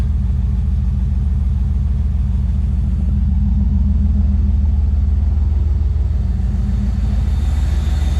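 A 1994 Jeep Grand Cherokee engine runs steadily after a fuel pump replacement, giving off a continuous low rumbling idle. The drone stays close and even for the whole stretch, and no one speaks.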